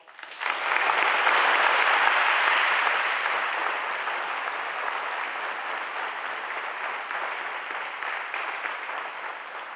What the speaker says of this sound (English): please join me in a round of applause for your fellow graduates